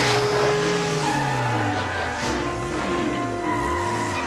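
A monster car in a Buffy the Vampire Slayer episode, with loud engine roar, revving and tire squeal mixed with a faint tonal backing throughout.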